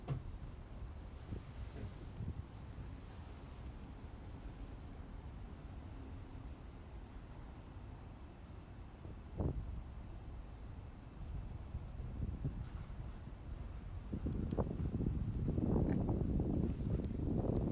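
A fresh outdoor breeze gusts past the microphone in a touristy waterfront district near Tokyo, a low, rumbling wind noise that stays steady before swelling louder and rougher toward the end.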